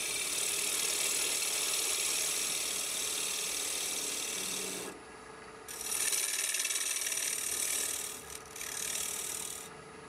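Threads are being cut into a hollow sphere, giving a continuous rasping, ratcheting mechanical grind. It dips briefly near the middle, then resumes, with no talking.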